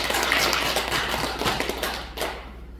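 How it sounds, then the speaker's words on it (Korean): Audience applause breaks out at a Korean Buddhist temple service, a dense wash of clapping hands that runs steady and fairly loud throughout, then fades off near the end. "을 위해서 박수 한번 쳐드립시다."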